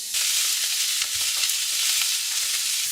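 Bacon fries in a frying pan, giving a loud, close, dense sizzle with scattered pops and spits, continuous and without voices.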